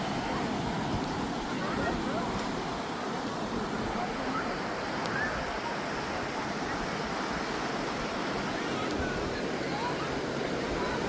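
Surf washing onto a beach makes a steady, broad hiss and rush that holds evenly for the whole stretch, with no distinct breaks between waves.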